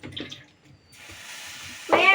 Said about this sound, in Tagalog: Lagyan ko pa ng tubig.